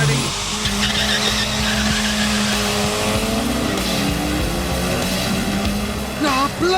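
A race car launches from the starting grid of a race circuit, its tyres skidding and squealing while the engine roars, loud and sustained throughout.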